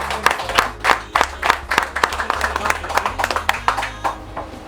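Audience applause at an evening charity show, steady claps of moderate loudness from a small crowd, with a low hum or music underneath.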